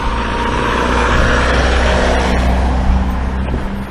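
A car reverses close by, its engine a steady low rumble with a broad drone of road noise holding throughout, with no voices.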